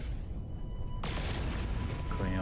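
A starship cannon fires in the space game No Man's Sky, a sudden loud boom at about one second followed by a sustained roaring blast and a rising electronic whine.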